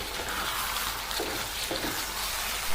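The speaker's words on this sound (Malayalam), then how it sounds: "ചെറുതായി ഒന്ന് ഇളക്കി കൊടുക്കാം." Masala chicken curry is stirred in a pan, giving a steady bubbling sizzle with soft scraping stirs layered over it, close and even throughout, with no talking.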